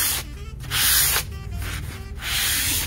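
Rough, rasping strokes of the abrasive side of a sponge sanding a decoupage surface, three loud back-and-forth scrubbing bursts separated by quieter rubbing, close to the ear.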